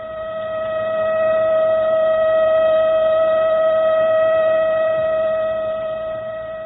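A steady, wailing siren tone rises out of silence, holds loud and unbroken, then fades away, sounding alone as an effect in a radio drama about an atomic attack on the United States.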